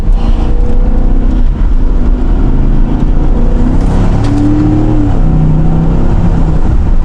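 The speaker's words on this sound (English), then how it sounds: "So this thing revs pretty high" A 2023 Ford F-150 Lariat pickup in sport mode revs high with loud, sustained engine roar, pitch rising and falling as the transmission shifts quickly, heard up close with no talking.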